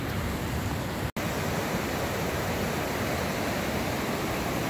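Rapids and waterfall at Rosseau Falls rush in a dense, steady broadband roar, loud and unbroken apart from one momentary dropout, with no voices.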